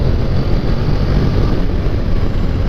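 A Honda NC700X DCT motorcycle runs at top speed on full throttle, a loud, steady low roar mixed with rushing wind noise that stays constant throughout.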